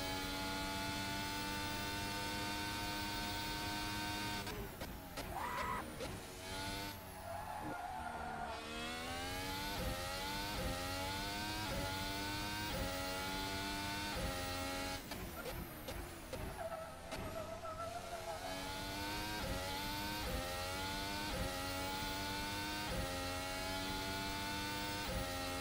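Formula Hybrid race car engine in F1 2019 on the Hungarian circuit, a continuous high-pitched whine repeatedly climbing through gears, dipping under braking into corners, with faint tyre noise, steady and unbroken.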